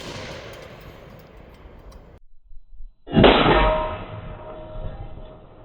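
A single loud, sharp gunshot from a Bond Arms Cyclops single-action handgun firing a .45-70 rifle round out of a 4 1/4 inch barrel, followed by a ringing decay, after a brief quiet moment.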